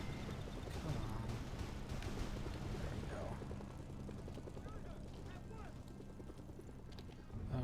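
A helicopter lifts off in the game Mercenaries 2 on an emulated PS2, with a low, rhythmic rotor chop and mechanical whirring that continue steadily under a voice.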